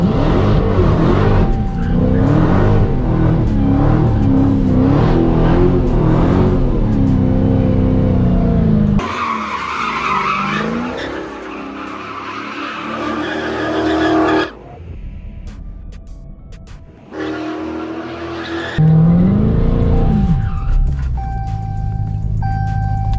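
A RAM TRX pickup truck revs hard and spins a donut, its loud engine roar rising and falling with bursts of tire noise, continuous and close for most of the stretch with brief quieter dips.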